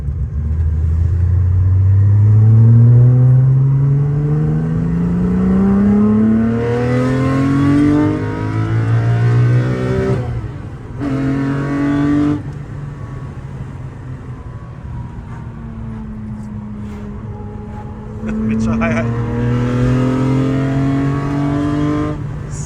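A naturally aspirated straight-six in a Datsun 240Z revs hard on the move. The engine note climbs steeply in pitch, eases off, then pulls up again, loud and close throughout with no talking.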